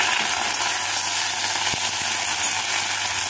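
Ginger paste fries in a pan over browned onions on a gas flame, producing a dense, steady, hissing sizzle that stays loud and close, with a couple of faint knocks and no speech.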